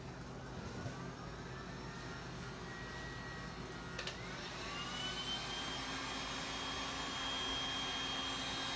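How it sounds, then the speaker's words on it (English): A heat gun blows air over resin on a glitter table top, a steady whooshing roar that holds constant throughout and grows slightly louder near the end, with no voices. "this is actually a heat gun, but I like this heat gun because it actually gets really more airflow than heat"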